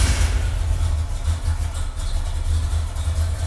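Car engine idling steadily after a cold start, a continuous low rumble with a slightly uneven lope from an aggressive camshaft, heard up close and alone for the whole stretch.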